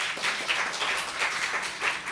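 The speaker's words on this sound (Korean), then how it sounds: "우리 수고하신 김남수 장로님을 위해서 우리 격려의 박수 한번 해주시기 바랍니다" A church congregation applauds during a Sunday worship service, a steady wash of clapping that runs the whole time at moderate level, slightly distant and without talk.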